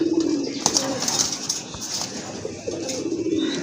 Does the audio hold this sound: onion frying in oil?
no